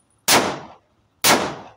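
Two loud, sharp gunshots from a TT30 bore pistol, about a second apart, each a close crack with a short decaying tail and near silence between.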